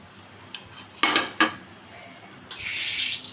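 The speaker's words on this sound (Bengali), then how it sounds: "দিয়ে একটু আমি হালকাভাবে একটু নাড়াচাড়া করে দিচ্ছি, যাতে মশলাটা এটার ভেতর একটু ঢোকে।" A spoon scrapes and knocks through egg shahi korma in a pan: two sharp clatters, then a steady bright sizzle rising after a pause, close by with no voices.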